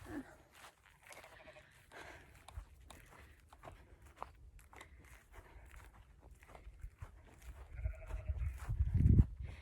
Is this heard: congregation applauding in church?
no